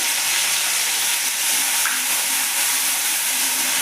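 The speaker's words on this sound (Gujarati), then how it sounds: "હવે આપણે સૌ પહેલાં નાખીશું લસણ મરચાં આદુની પેસ્ટ પછી આપણે નાખીશું લીલું લસણ" Garlic, chili and ginger paste with green garlic frying in a pan for eggplant olo, giving a loud, continuous sizzle close by with no talk.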